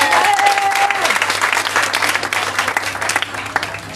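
A congregation applauds during a church service, dense, sustained clapping with crowd noise throughout, a brief tonal sound near the start and some voices mixed in.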